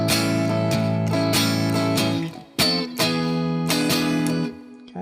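Electric or acoustic guitar strums a 12-bar blues turnaround, a sequence of ringing chords with sharp attacks and sustained harmonic tones, played alone with no voices over it.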